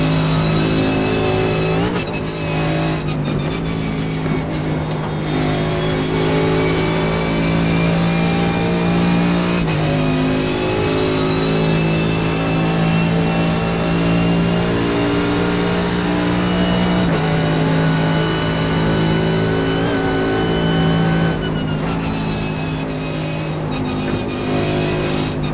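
A small Mazda race car's engine held at a steady, loud drone while lapping the Nürburgring in iRacing, pitch rising and dipping slightly with gear changes, continuous and close for the whole stretch.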